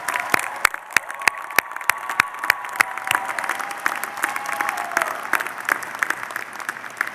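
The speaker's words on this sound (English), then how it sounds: "I'd like you to join me in applauding your family and friends" Audience applause at a commencement ceremony for a graduating class: a sustained wash of crowd clapping with some louder, sharper nearby claps standing out, and a faint tone drifting underneath.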